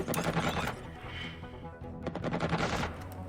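Rapid bursts of gunfire in the video game Xenonauts X-Division, dense machine-gun volleys in two loud clusters with a brief lull between.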